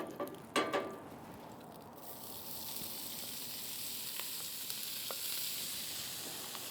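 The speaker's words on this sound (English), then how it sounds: "we get the cabbage and onion in here to start frying" Cabbage and onion sizzle steadily in a hot pan over fairly high heat after a few clanks of ingredients going in, a constant frying hiss with occasional pops.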